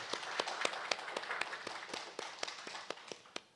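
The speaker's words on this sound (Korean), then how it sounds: "우리 큰 박수로 하나님께 영광 올리겠습니다." A church congregation claps together during a Wednesday prayer service, a steady run of sharp, fairly even claps that carry on through the clip against a soft roomy background.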